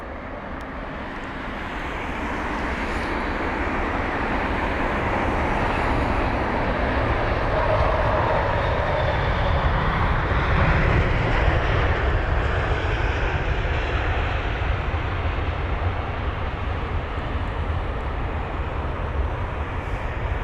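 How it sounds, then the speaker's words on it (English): An Airbus A350-1000 airliner lands and rolls out on the runway at London Heathrow, a loud, sustained broadband jet roar that swells over the first few seconds and holds steady throughout, with no talk. "That's the A350, you know what, we can actually catch it vacating off the runway."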